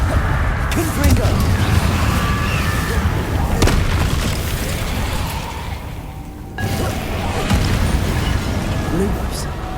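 Confringo fire spell explosions in the Hogwarts Legacy video game, a loud, dense, rumbling series of booming blasts with continuous game noise that briefly dips before the roar resumes.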